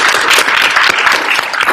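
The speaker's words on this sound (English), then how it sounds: "Round of applause to all the candidates today." A live audience at a university student government presidential and vice presidential debate gives the candidates a steady, dense round of applause, many hands clapping at once and close, with no gaps across the full stretch.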